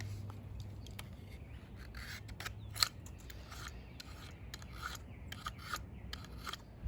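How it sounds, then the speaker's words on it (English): A small Stanley 10-049 knife scrapes shavings from the bottom board of a bamboo fire saw set: quiet, repeated dry rasping strokes, close and alone, with a sharper scrape near the middle. "let's make some shavings with it now, and some more scrapings"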